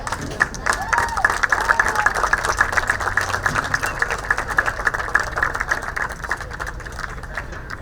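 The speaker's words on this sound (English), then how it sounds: "One more round of applause for our seniors." A crowd claps and cheers loudly and steadily for seniors at a high school rugby game in a large, reverberant space, with a constant mechanical hum underneath.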